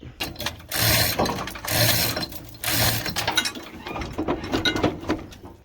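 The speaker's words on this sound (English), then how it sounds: "we got the other motor mount bolts out there" A hand ratchet loosens the motor mount bolts on a 1964 Chevrolet C10 pickup with a 468 big-block Chevy engine. Three loud bursts of rapid ratcheting clicks come close up, followed by a steadier run of clicking.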